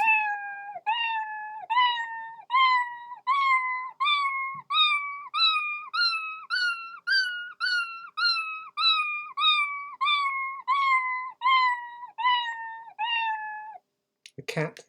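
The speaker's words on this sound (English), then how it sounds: "a cat singing a scale" A programmed computer cat sound meows a rising and falling musical scale, about twenty short evenly spaced tonal meows in steady rhythm, clear and close, ending with a brief click.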